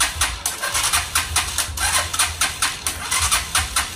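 A Euro Daanhari 150/175 motorcycle, one with a rain-soaked ignition switch fault, starts up and idles with a loud, steady, rhythmic chugging close by.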